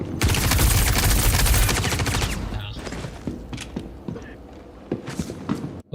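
An arc-light pistol in Star Citizen fires in a dense, rapid volley for about two and a half seconds, then gives way to scattered single shots and softer clicks, all close and loud.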